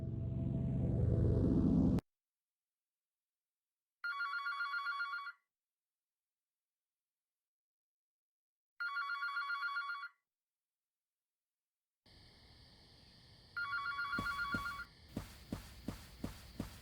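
Telephone ringing in the video game Heart of the Killer, three separate electronic rings with silent gaps between them, the last one over a low rumbling ambience and sharp clicks.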